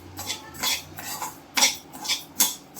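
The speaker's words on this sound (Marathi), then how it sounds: "त्याला हलवण्यासाठी आपण एक चमचा घेऊया" A metal spoon clinks and scrapes around a pan of slowly caramelizing sugar over low heat, a string of short, close taps in an uneven stirring rhythm.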